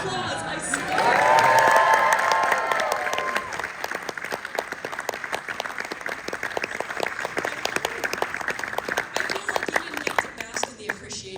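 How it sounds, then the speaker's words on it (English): An audience at a press event for the film Wicked breaks into loud applause with cheers and whoops, the clapping settling into a steady, rhythmic patter that continues to the end. "got applause, I swear"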